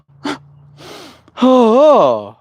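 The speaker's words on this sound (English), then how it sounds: "Sucks tears back into tear ducts." A person's sharp, wet inhalation while crying, pulling tears back, followed by a shaky, voiced, wavering exhale or whimper; close and fairly loud, with no words spoken.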